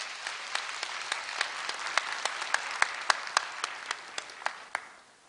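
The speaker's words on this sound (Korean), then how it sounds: "염재호 총장님을 큰 박수로 맞이해 주시기 바랍니다" Sparse, scattered clapping in a large hall at a Korea University degree ceremony, welcoming the university president; distinct individual claps ring out over a soft background before fading at the end.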